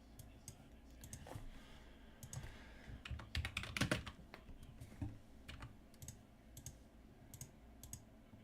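Faint but busy computer keyboard typing and mouse clicking, bursts of quick taps building to a denser flurry midway, then sparser clicks, with low background murmur.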